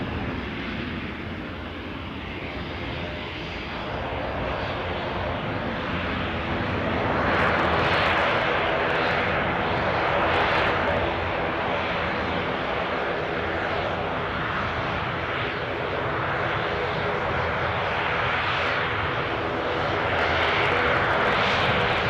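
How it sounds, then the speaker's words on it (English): Aer Lingus airliner taxiing at Newcastle airport, a steady, loud jet engine roar that swells slightly partway through and holds for the full stretch, with no talking. "Next on the blocks, Aer Lingus off to Belfast."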